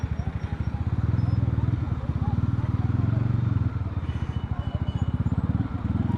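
A 2016 Mahindra Mojo motorcycle engine thrums during a test ride, a loud, close, rapid pulsing exhaust beat that rises and eases slightly with throttle, running steadily throughout.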